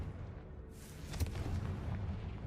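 A Confringo fire spell bursts with an explosive boom in Hogwarts Legacy, a single sharp blast over a steady low rumble of game ambience.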